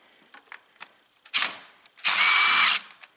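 Power tool zipping out the 7mm bolt holding a coil down on a Ford 5.4L engine, a short burst then a longer loud whir, with small tool clicks around it.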